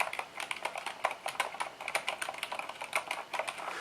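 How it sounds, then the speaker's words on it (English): Fast, steady typing on a Corsair K70 RGB MK.2 Silent mechanical keyboard, a dense run of soft, muted keystrokes heard up close with no talking. "Like the larger keys sound like normal keys, but the regular small keys, they're pretty silent."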